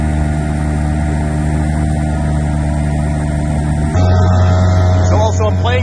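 Steady droning hum of an outboard motor pushing a 10.8-foot Bris inflatable boat along a river, loud and close throughout, with a sudden pitch shift partway as the trim changes and a voice briefly audible under it.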